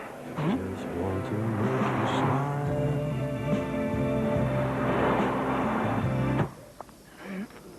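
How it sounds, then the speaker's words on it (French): A Renault Mégane GT Line drives in a French TV ad, its engine a sustained harmonic drone that swells and rises in pitch, then cuts off abruptly near the end, leaving quieter thumps and faint movement. "Nouvelle Renault Mégane GT Line, on n'a jamais eu autant envie de conduire une Renault"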